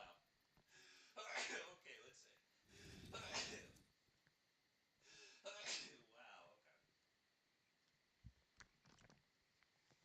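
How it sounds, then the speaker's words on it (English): A person sneezes once, a sharp burst near the mic, after some quiet breathy sounds, with small clicks and noises afterward in a quiet room. "Hang on, I gotta sneeze."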